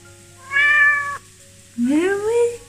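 A domestic cat meows twice at close range, the first call a rising-falling mew and the second a longer drawn-out meow, clear over a faint indoor hum.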